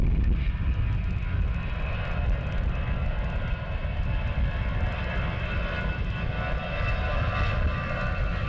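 An airplane lands at London Luton Airport in gusty crosswinds. A loud, steady jet roar with a broad rumble fills the whole stretch, fairly close and unbroken.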